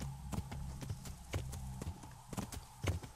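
A horse walks through a summer meadow in the video game Kingdom Come: Deliverance, its hooves clip-clopping in a steady, even rhythm of sharp, close knocks over a soft outdoor background.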